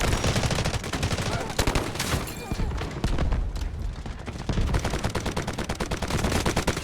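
Rapid bursts of gunfire in the mobile game Delta Force, including an AK-12, crackle almost nonstop, with a few heavier booms mixed in, loud and dense throughout.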